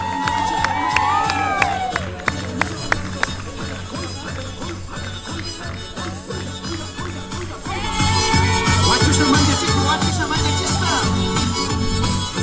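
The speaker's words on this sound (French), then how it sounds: "applaudit s'il vous plaît, on applaudit," Crowd cheering and clapping at the Fête de la Banane festival, a steady loud roar with whoops and shouts that swells louder in the second half, with music and a voice over it.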